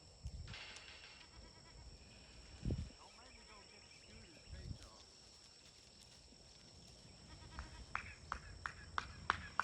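Goats, one of them a pregnant doe, bleat in a quiet outdoor setting amid a steady insect chirr, with a few brief calls and some faint clicks and rustles; a voice speaks softly in the background.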